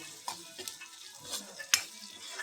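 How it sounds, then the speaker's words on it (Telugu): Onion pieces frying in oil make a faint, steady sizzle with scattered soft stirring taps and one sharp click near the end. "పెద్దగా పెట్టాలి, తొందరగా ఫ్రై అవుతుంది ఉల్లిగడ్డ ముక్కలు."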